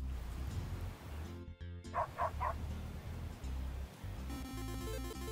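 A dog in the Leaf Blower Man video game lets out three quick barks in a row, fairly quiet, set against low game background noise and scattered sound effects.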